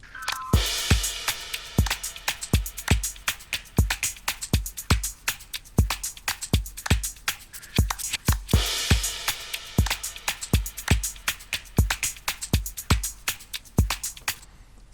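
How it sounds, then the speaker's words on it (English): A reggaeton drum groove plays steadily, with percussion, trap drums, crash cymbals and live-recorded claps in a driving, punchy rhythm, with cymbal washes now and then, no voices. "together the drums and the groove sounds like this"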